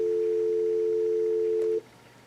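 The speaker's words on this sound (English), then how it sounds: "you get an automatic dial tone" Dial tone from a Yealink T54 desk phone on speakerphone, a steady, loud, unbroken tone lasting under two seconds before cutting off abruptly.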